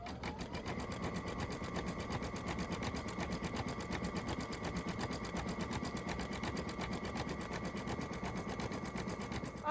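An embroidery machine stitches red thread rickrack onto a pet stocking, a steady, close, rapid mechanical chatter with a faint high whine running evenly throughout.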